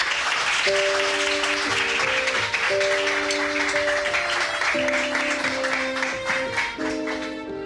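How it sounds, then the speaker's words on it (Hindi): Applause fills a gathering where the boss has just arrived, with steady clapping throughout and a bright music track playing over it. "तालियां हो जाए।"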